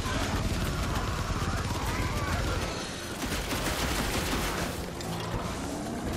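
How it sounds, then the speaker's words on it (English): Gatling gun firing in the video game Evil West: a dense, continuous roar of rapid-fire shots, loud and close, sustained with only a brief dip midway. "Gatling gun."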